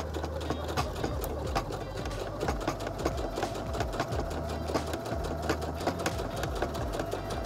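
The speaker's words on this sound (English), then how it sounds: "Keep your finger on it momentarily as you sew over the thick seam" A Heavy Duty 6800C sewing machine runs steadily as it sews over a thick fabric seam, a continuous close mechanical whir with a rapid needle rhythm and low motor hum throughout.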